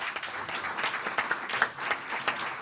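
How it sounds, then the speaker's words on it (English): An audience at a mayoral candidates' debate in Newton, hosted at a college, breaks into sustained applause, a dense, steady wash of clapping filling the room for the whole stretch. "Let's give them a big round of applause."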